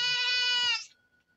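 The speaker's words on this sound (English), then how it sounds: "Whiny goats." Goats at a show-goat wash rack give one loud, drawn-out, wavering bleat that cuts off sharply, followed by near silence.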